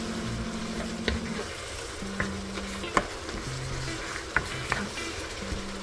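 Egg roll in a bowl mixture being stirred as it fries in a pan, with a steady sizzle and repeated scraping clicks of the utensil against the pan, fairly close.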